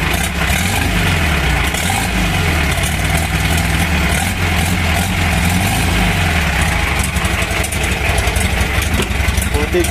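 A Volkswagen Beetle 1300 engine idles steadily with an open exhaust, loud and close, its low rumble holding a constant pulse for the full stretch with no clear voices.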